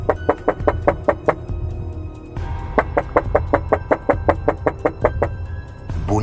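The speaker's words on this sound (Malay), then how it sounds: "Bunyi ketukan yang kuat dari luar bilik." Loud, sharp knocking on a door from outside a room, delivered in rapid bursts of about six raps, a brief pause, then a longer run of steady knocks, close and prominent with no voices.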